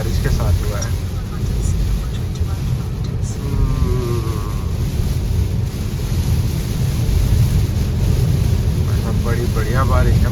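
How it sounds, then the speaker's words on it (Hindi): Heavy monsoon rain drums steadily on a car driving across Atal Setu in Mumbai, a Windsor EV, with a dense, continuous wash of noise and brief tonal sounds in the middle. "बड़ी जोरदार बारिश के साथ स्वागत हुआ है आज"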